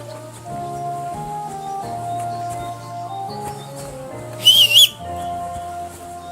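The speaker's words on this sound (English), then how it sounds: "Are you whistling at me?" Whistling in the video game Kingdom Come Deliverance 2 comes as a short, bright two-note whistle near the end, rising over a soft, steady musical background with light ambient patter and no speech.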